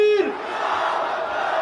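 A crowd at a political rally for AIMIM roars back a loud, unified shouted response to a slogan chant, starting just after a single voice's call and swelling into sustained massed shouting.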